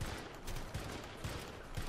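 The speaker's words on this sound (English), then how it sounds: "There's a turret shooting at me." Rapid automatic gunfire from a turret in the video game Syndicate, a steady rattling burst of repeated shots close and loud throughout.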